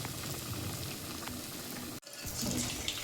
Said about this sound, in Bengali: তেলটা কড়াই গরম করতে দিয়েছি। এবার একটা একটা করে ছেড়ে দেবো